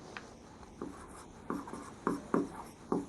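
Pen strokes on paper while writing notes, a series of short scratchy bursts roughly every half second, close and fairly quiet, with no talking over them.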